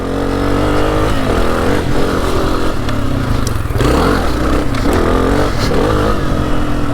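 A 2024 Honda CRF250F trail bike being ridden, its engine a loud, close, continuous rumble that rises and falls with throttle changes, with some rattling and scraping from the trail and no talk.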